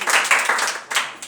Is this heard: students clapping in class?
yes